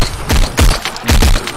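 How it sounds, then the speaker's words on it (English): Three loud, punchy gunshots fired at an explosive barrel in the Arizona Sunshine VR zombie game, evenly spaced about half a second apart with booming low-end tails. "If there's a bunch of zombies around there, shoot the barrel"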